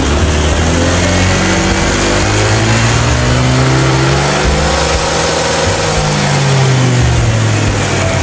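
A Honda ADV160 scooter engine, not yet remapped, revs hard and holds near its maximum RPM, its whine climbing and sustaining loudly with no one talking.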